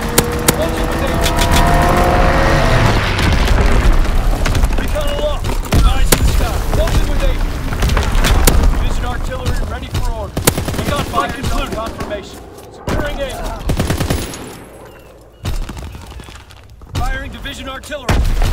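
Heavy gunfire and artillery blasts fill a Call of Duty: WWII battle, loud and continuous with dense bursts and booms, thinning out toward the end, with radio-style voices speaking over the combat.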